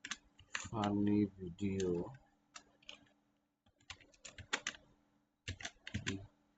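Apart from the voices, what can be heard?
typing on a computer keyboard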